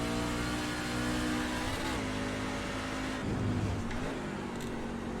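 Truck engine in the iRacing racing game, Truck Series at Sonoma, held on light throttle: a steady, loud, droning motor note that stays fairly level, with small dips and rises in pitch as the throttle is eased.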